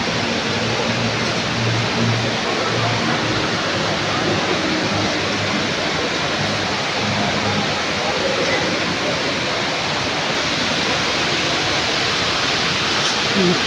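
A natural waterfall beside an aquarium roars as a steady, dense broadband rush, continuous and loud for the whole stretch with no breaks and no clear voices on top.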